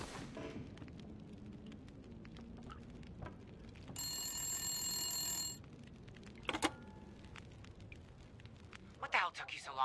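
A single ringing telephone in the video game The Long Dark, heard as one bright, sustained electronic ring burst lasting about a second and a half, loud against a quiet interior ambience.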